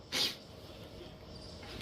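A single sharp sneeze bursts out near the start, then fades to a steady low room murmur from a Pistons versus Raptors basketball livestream.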